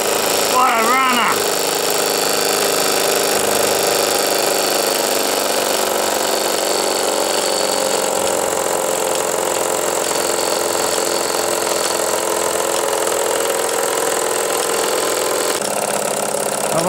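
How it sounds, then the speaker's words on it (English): Bowman M140 model engine running steadily, a continuous buzzing, rattling drone close by for the whole stretch, with a voice talking briefly near the start. "I won this engine as a raffle prize in a raffle run by forum member Bowman"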